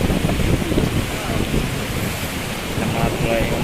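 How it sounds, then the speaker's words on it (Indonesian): Strong, very fast wind roars with rain in northern Napa, pouring a dense, steady wash of noise into the microphone with no clear breaks, loud and close throughout. "angin keras yang sangat kencang"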